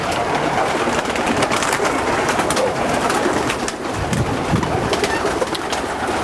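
Racing pigeons coo steadily inside a loft at a one-loft race facility, a dense continuous murmur of many birds with soft wing flutters, fairly loud and close, no talk over it.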